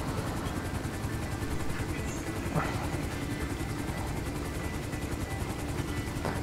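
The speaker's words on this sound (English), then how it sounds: "The helicopter keeps going up and down." A helicopter in Grand Theft Auto V Online on PS5 gives off a steady, droning rotor whir that holds at a moderate level throughout, without voices over it.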